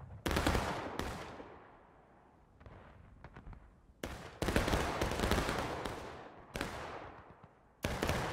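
Guns fire at a Gettysburg reenactment event: several loud, sharp blasts spaced a few seconds apart, each trailing off into a long echoing decay outdoors.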